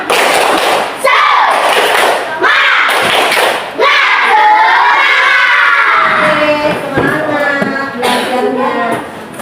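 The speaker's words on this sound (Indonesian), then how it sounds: "Tepuk semangat." Fourth-grade schoolchildren in a classroom doing a 'tepuk semangat' spirit clap, loud rhythmic group claps and thumps mixed with excited chanting and shouting voices throughout.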